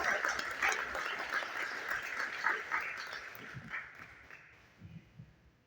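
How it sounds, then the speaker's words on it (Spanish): Audience applause fills a public event in Morelia, a dense, steady clapping that gradually thins and fades out, with a few cheers mixed in. "Les pido el aplauso, por favor."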